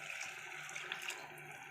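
Water poured into a pot of rice for vegetable biryani, a short steady splashing trickle heard up close with no talking.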